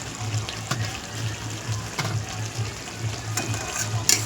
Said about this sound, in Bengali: আমি এখন ধনেপাতা দিয়ে একটু নেড়ে চেড়ে নামিয়ে নেব